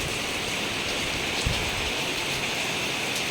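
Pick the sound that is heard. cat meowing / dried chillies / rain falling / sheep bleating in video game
rain falling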